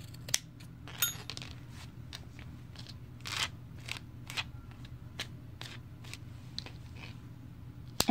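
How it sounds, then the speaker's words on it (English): Scissors snipping crochet yarn while trimming the edge of a cross-stitch single crochet placemat, a string of short, crisp close-up cuts at uneven intervals over a low steady hum. "Again, if it's not straight, then you just cut it so that it's the same size."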